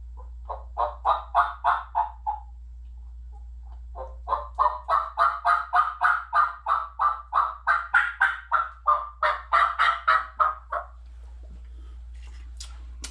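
A turkey call imitates turkey sounds with rapid, rhythmic series of yelps and clucks, a short burst followed by a longer run of loud, evenly spaced notes close to the listener, with no talking.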